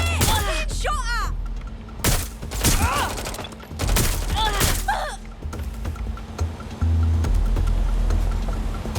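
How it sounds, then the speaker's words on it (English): Gunfire in the video game Watch Dogs: Legion cracks out in several sharp bursts and single shots, with frantic shouting between them. "I'm being shot at!"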